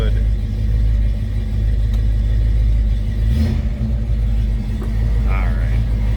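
A 1969 Ford Mustang Fastback with a 351 V8 idles with a steady, deep rumble close by, the low drone holding for the whole stretch without clear revs.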